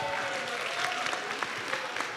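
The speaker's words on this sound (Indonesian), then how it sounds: "Tepuk tangan dulu" Short burst of audience applause during a GenBI leadership practice gathering in Indonesia, brisk dense clapping for about two seconds with a faint tone or voice lingering underneath.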